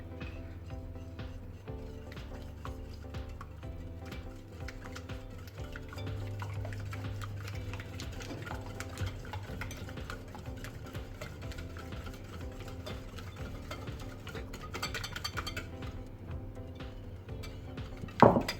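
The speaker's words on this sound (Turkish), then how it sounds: "daha sonra arkadaşlar pudra şekerini ilave ediyorum. Ve birazcık karıştırmaya başlıyorum arkadaşlar." A spoon stirs powdered sugar and egg into a dessert mixture in a bowl, making a steady, rhythmic ticking and scraping that repeats for many seconds, close and fairly quiet, with no talking.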